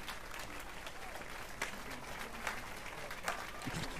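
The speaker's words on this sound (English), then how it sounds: "That's the most sarcastic clapping ever, Geralt." Geralt claps in The Witcher 3, a soft, steady patter of hand claps that is fairly quiet and continuous, with a few slightly louder slaps.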